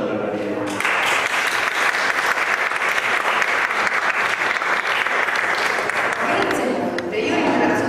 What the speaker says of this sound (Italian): Un applauso da Anna Maria.